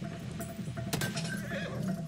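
A horse in a World War I shooter game lets out a brief neigh over a low rumble, with a sharp impact just before it.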